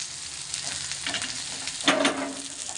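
Pieces of fish marinated with lemon juice, ginger, salt, chili powder and turmeric sizzle in hot oil in a pan, a close crackling fry with stirring and a sharper burst of spitting near the end.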